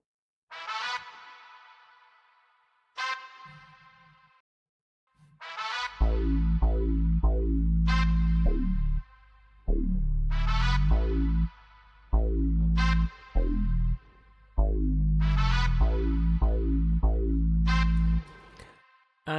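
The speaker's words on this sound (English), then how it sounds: "A brass session from Sound Font." A brass session sample from Sound Font plays stabbed, punchy phrases over a deep bass and beat in an Afrobeats-style instrumental, with loud, repeated hits and brief gaps.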